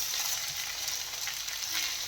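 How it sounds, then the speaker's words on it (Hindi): Tadka tempering sizzles in a pan in a village kitchen, a steady close frying hiss with faint crackles and no voices. "तो ये देखें तड़का लग गया हमारे कतरों में"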